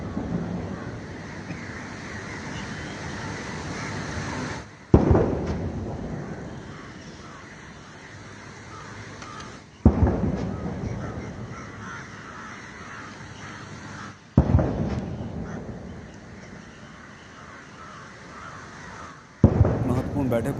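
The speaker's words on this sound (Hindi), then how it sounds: "तोप की सलामी प्रधानमंत्री नरेंद्र मोदी को दी जा रही है" Ceremonial cannon salute fired for PM Modi's welcome in Sri Lanka: four loud booming shots at roughly five-second intervals, each decaying into rumble under steady outdoor crowd and wind noise.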